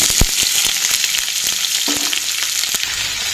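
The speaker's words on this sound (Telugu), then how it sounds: "ఇప్పుడు మనం కట్ చేసి పెట్టుకున్నటువంటి ఆనియన్స్ వేసుకుందాం" Loud, close sizzling of chopped onions frying in about a tablespoon of oil for bottle gourd pulusu, punctuated by sharp clacks of a utensil against the pan.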